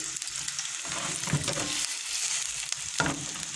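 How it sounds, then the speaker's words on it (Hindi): Potato pieces fry in hot oil until crispy for Sindhi biryani, a continuous close sizzle with a couple of brief stirring scrapes. "इसको हम अच्छा सा क्रिस्पी तक होने तक फ्राई कर लेंगे।"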